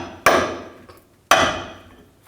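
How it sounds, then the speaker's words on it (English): Two sharp metallic hammer blows on a punch driving the torsion bar forward on a 2007-2014 GMC Sierra 3500 HD, each ringing out and decaying, about a second apart. "Now I'm going to use a punch, or you can use an air chisel, and just try to hammer the torsion bar forward"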